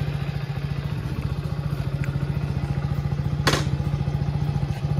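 A motorcycle engine idles close by, ready for a ride to college. It throbs steadily and rapidly, with a brief rattling clack partway through and no speech.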